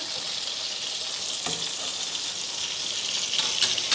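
Parmesan-crusted pork chops frying in a skillet, a loud, dense, continuous sizzle with a couple of brief crackles and no talking.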